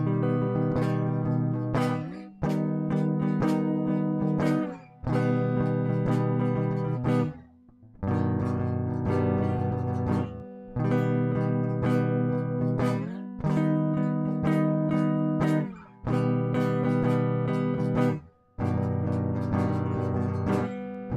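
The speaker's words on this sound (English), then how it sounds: "Now the bottom 4 string chords, guys, it sounds like this." Guitar chords played on the bottom four strings ring out in eight strummed blocks, each sustained about two seconds with brief gaps between, loud and steady with no talking.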